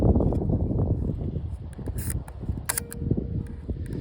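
A Seiko leaf shutter on a Tachihara large format field camera, set to 1/15 second, clicks open and then clicks shut, small sharp mechanical snaps over a low background rumble.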